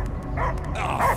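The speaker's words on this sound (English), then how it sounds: "I hear only barking." A dog barking in the video game Marvel's Guardians of the Galaxy, a quick run of loud close barks and yips over a low rumbling game backdrop.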